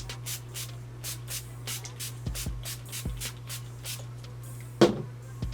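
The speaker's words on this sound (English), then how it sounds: "I'm gonna spray this all over my face" Setting spray misted over a face in a makeup routine: a series of quick, soft hissing spritzes, close and fairly faint, over a steady low background hum.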